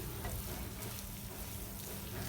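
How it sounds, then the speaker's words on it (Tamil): Cooked rice being stirred into tomato thokku in a pan for easy tomato rice, a soft, steady sizzle with faint scraping, quiet and continuous throughout. "சாதத்தை இப்போ போட்டு நல்லா மிக்ஸ் பண்ணிடலாம்"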